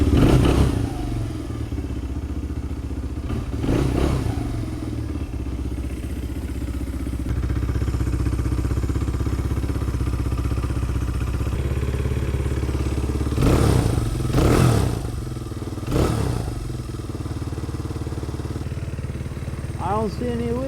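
A Honda CRF100 motorcycle engine starts after an oil change and settles into a steady, close idle, with a few louder thumps and clatters along the way.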